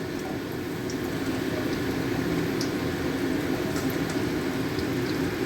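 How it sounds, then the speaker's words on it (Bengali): Snacks such as beguni fry in a pan of oil for an iftar meal, giving a steady, even sizzling hiss with fine crackles throughout and no talking. "তো এখানে ভাজা ভাজি চলতেছে"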